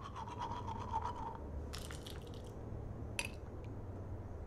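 Scrubbing of a toothbrush during a teeth-brushing scene in the game Life is Strange, a soft, rhythmic wet bristle rasp for the first second or so, followed by a few faint splashes and drips against a low background hum.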